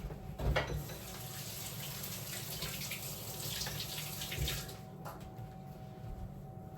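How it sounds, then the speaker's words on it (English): Hands being rinsed under a running kitchen tap while making mini Oreo cheesecakes, a steady close water rush with a couple of brief splashes. "Rinse my hands"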